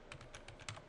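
A computer keyboard being typed on in a quiet room while entering a URL for an Axis camera's HTTP event server, with a run of about eight light, evenly spaced key clicks, close and soft, and no voice.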